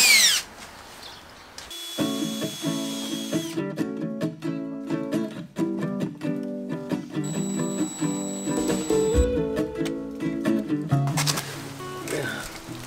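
Power drill boring into a food trailer floor over a metal frame, several short drill bursts with pauses in between, close and moderately loud, with people talking around them.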